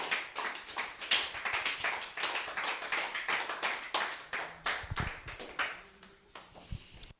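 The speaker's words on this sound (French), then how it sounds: "Est-ce qu'on peut se mettre debout en acclamant très fort?" A church congregation stands and applauds loudly, with dense, steady rhythmic clapping close by that thins out and tapers off toward the end.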